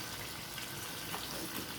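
Water poured from a bottle into a cooking pot, where oil and asafoetida sit in a home kitchen, makes a steady, soft rushing wash for the whole short stretch, without talk.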